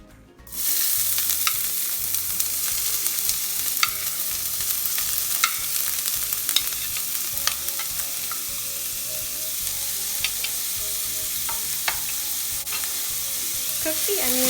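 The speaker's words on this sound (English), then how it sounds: "Cook the onions until they are brown." Onions sauté in a hot pan, a continuous loud sizzle with scattered crackles and occasional scrapes of stirring, close up and with no talk.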